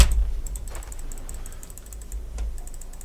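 Computer keyboard keys clatter in quick irregular bursts during a Dota 2 match, close and fairly soft over a low background hum.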